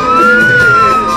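Ambulance siren sound effect from a radio advertisement for an ambulance, nursing and patient transport service: a steady, loud wailing tone holding across the whole short stretch, with no voice over it.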